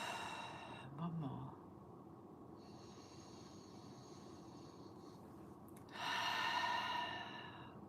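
A group in guided meditation takes deep breaths, with a soft exhale early on and a long, loud airy inhale-exhale swell later, over a quiet room hum.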